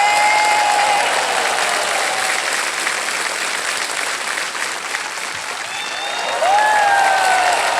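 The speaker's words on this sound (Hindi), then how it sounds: "ताली बज जाएगी" Studio audience on the KBC quiz show breaks into steady, full applause that holds evenly for several seconds and swells again near the end.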